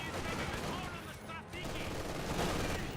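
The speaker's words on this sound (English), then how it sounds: "MG42 firing away, hitting that assault section" MG42 machine gun fire in Company of Heroes 2: loud, sustained automatic gunfire mixed with other battlefield shooting and explosions, thick and continuous through the whole stretch, with a voice talking over it.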